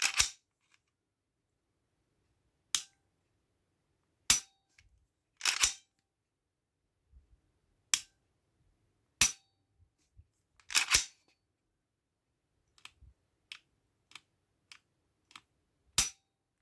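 Pistol trigger on a Polymer 80 PFC or Shadow Systems MR 918 Elite being dry-fired, sharp isolated clicks spaced a second or two apart, some in quick pairs, close and crisp in a quiet room.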